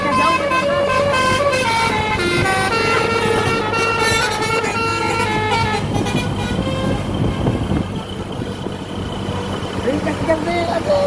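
A bus telolet musical horn, a Basuri Krakatau, plays loud melodic tooting phrases on a bus returning from Pangandaran, over a steady engine rumble. The horn fades toward the end and people talk in the background.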